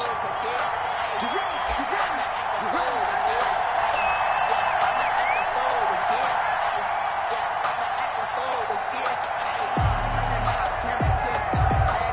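Steady roar of a stadium crowd in a Madden NFL football game, Minnesota Vikings against Baltimore Ravens, a dense continuous wash of cheering with scattered bumps and a few low thuds near the end, under commentary.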